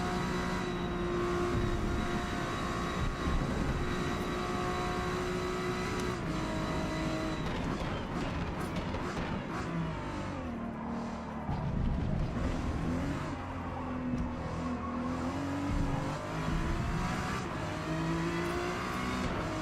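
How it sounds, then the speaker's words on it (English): Honda NSX GT3 race car engine in the racing game Forza Motorsport, a steady loud drone with shifting pitch as the car accelerates and gears change, running continuously throughout with no talk. "I'm currently driving the Honda NSX GT3"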